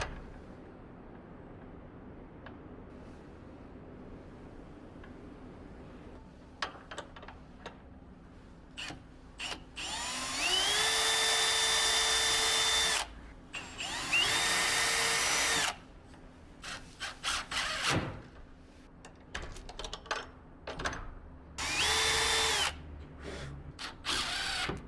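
A power drill whirs into wood in several separate bursts while hanging a shed door, each spinning up with a rising whine, with quiet handling clatter in between.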